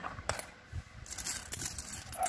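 Loose coins dropped one after another into a piggy bank, making a series of close, light metallic clinks over a busy background with faint dog noise from nearby.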